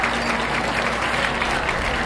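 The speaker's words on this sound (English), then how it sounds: "let's give Elise a big round of applause" Luncheon audience at the Great Ladies Luncheon breaking into loud, dense applause after a show, a thick steady roar of many hands clapping throughout the short stretch.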